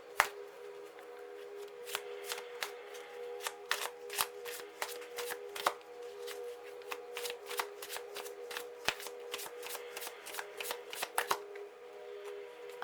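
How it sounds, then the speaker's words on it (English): A deck of tarot cards is shuffled close up in a quiet room, a long run of quick, crisp riffling flicks and snaps in irregular bursts, with no talking. "So let's give these a good shuffle here."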